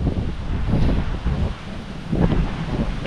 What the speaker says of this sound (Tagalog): sa lakas ba naman ang hangin na yan?